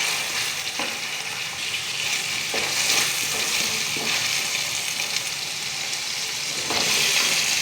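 Chopped tomatoes sizzle in hot oil with mustard seeds, shallots and green chillies for a fig kootu, a steady close crackling fry with a few stirring scrapes.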